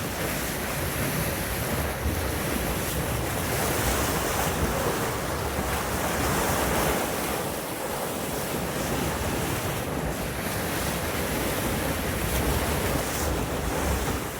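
Ocean waves and wind at sea aboard a Selene 53 trawler yacht in calm seas of one to two feet, heard as a steady, dense wash of surf and buffeting wind noise with no talk.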